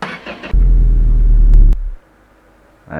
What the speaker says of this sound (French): elle démarre mais elle veut pas